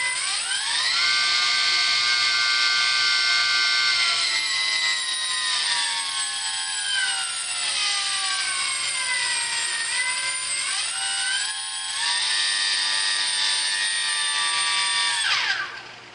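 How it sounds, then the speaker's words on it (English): A small electric motor whines at high pitch, its tone shifting up and down as it runs steadily, then spinning down at the end; close and continuous. "this has got a pretty torquey little motor"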